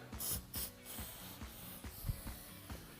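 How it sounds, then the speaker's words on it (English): Short hissing spray bursts from an aerosol can of adhesive remover, repeated several times with faint mechanical clicks, close up and quiet. "I'll spray the adhesive"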